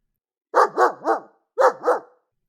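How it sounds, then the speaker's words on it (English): A big Newfoundland dog barks in an audiobook sound effect: three deep, close woofs, a brief pause, then two more, with no voices over them. "she is a big Newfoundland dog"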